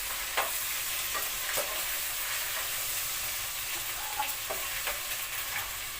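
Tomatoes hitting a hot pan for a raw mango fish curry, giving a steady close sizzle with faint scraping stirs throughout and no talking.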